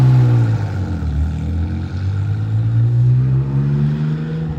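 A carbureted Porsche 964 drives along, its engine droning steadily and loudly up close with a low, sustained note that rises slightly as it pulls, with no talking over it.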